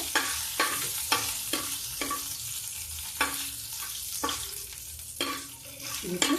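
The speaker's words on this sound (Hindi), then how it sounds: "ये मेरी हींग पक रही है।" Asafoetida and cumin seeds fry in hot oil, with a steady close sizzle and a few sharp stirring scrapes at regular intervals, on a gas flame turned low.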